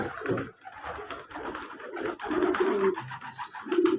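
Pigeons coo in a steady, overlapping chorus of low, throaty calls, fairly close, with a busy background and no voices.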